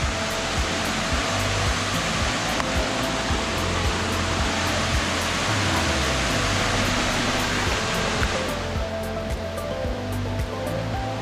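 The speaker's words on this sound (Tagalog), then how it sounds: "ibang spot na naman ng falls. Mini falls na din naman." A small waterfall at Lake Sebu in South Cotabato rushes steadily, loud and close, as a broad continuous roar of falling water with no voices. It thins slightly near the end.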